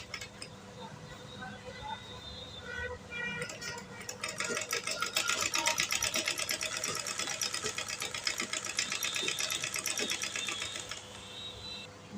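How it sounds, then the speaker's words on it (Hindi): A sewing machine stitching a blouse button placket: a quiet start with a few stops, then a steady, fast, close mechanical rattle of stitching that runs for several seconds before easing off; someone speaks briefly. "इस तरह से इसको सिलाई लगा दूँगी।"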